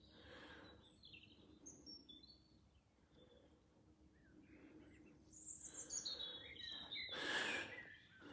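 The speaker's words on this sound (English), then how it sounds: "All we can hear is the birds twittering and the old tractors working in the background." Birds chirp and tweet outdoors in a quiet countryside setting, scattered calls rising to a louder burst of song near the end, over a low steady rumble of old tractors working in the distance.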